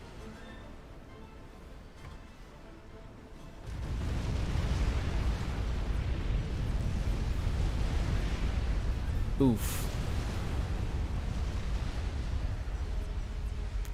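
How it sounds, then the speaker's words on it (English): A huge explosion rumbles out in the strategy game Supreme Commander: Forged Alliance, a loud broadband roar that swells suddenly and sustains for about ten seconds, with a brief sharp burst near the end and a short spoken exclamation. "That was a big explosion."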